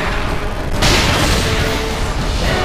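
A loud boom bursts out of the God of War: Ghost of Sparta action game at about the one-second mark, then a dense rumbling roar holds steady under constant game noise until the end.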